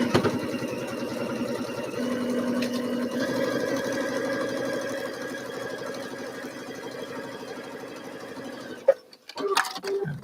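A sewing machine stitches a quarter-inch seam through quilt pieces, a steady close whirring hum running for about nine seconds before stopping, with a few small clicks after.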